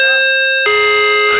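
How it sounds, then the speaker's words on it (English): A malfunctioning doorbell rings uncontrollably, giving a loud, sustained electronic tone that jumps to a harsher, denser chime partway through and continues without pause. "all of a sudden the doorbell just started ringing uncontrollably"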